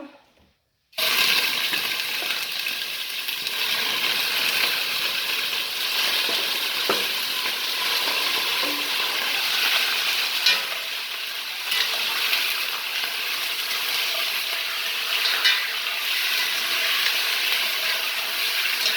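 Venison pieces land in a hot pan and fry with a constant, dense sizzle and crackle that runs unbroken for over fifteen seconds, close by and with no voices.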